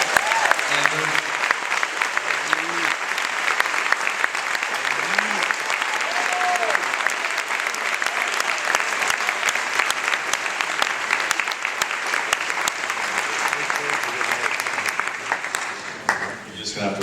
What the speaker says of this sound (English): You're just going to have to applaud again now.